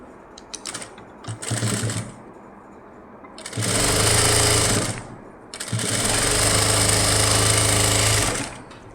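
A sewing machine stitches a blouse in close, loud bursts: a few short stuttering runs, then two longer steady whirring stretches of rapid needle clatter separated by a brief pause.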